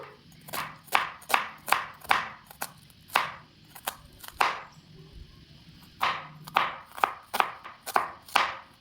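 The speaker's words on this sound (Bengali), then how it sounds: "এবার আমি পেঁয়াজটাকে ফাইনালি চপ করে নেব" A medium onion being finely chopped with a knife on a board: quick runs of sharp, close taps in rhythmic bursts with short pauses between them.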